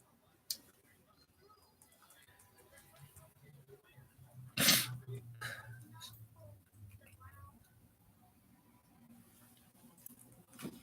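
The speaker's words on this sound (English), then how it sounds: "Why am I sneezing?" A single sharp sneeze from a person bursts out mid-clip, loud and close, set against a quiet room with faint clicks and murmured talk around it.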